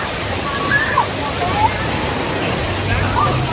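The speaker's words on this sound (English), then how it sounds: "And they have the water slides for the kids." Rushing water at the kids' water slides of Volcano Bay water park, a constant loud splashing roar with faint distant voices and shouts mixed in.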